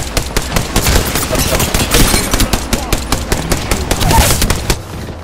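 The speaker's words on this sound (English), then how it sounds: "Darn shots fired and they're hitting me." Rapid automatic gunfire in a shooter video game, a loud, steady stream of sharp cracking shots with brief uneven gaps, continuing for several seconds without talk.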